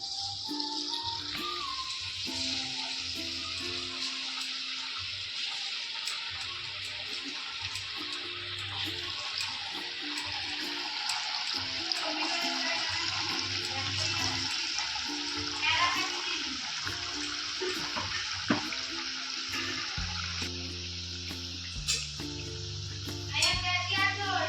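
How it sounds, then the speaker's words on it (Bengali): Palm pitha fries in hot oil in a kadai, giving a steady, close sizzling hiss that runs throughout, with occasional low tones and faint background voices under the constant crackle. "তেলটা গরম হয়ে গেলে পিঠাগুলো ভেজে নেব।"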